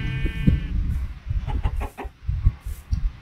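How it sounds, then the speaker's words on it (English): A chicken in the video game Minecraft makes several short clucks and squawks in uneven bursts, close and moderately loud over background game noise. "Chicken."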